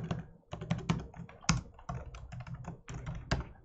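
Keys clatter on a computer keyboard as a command is typed, a close, steady run of quick taps and thunks with brief pauses, no voices over it.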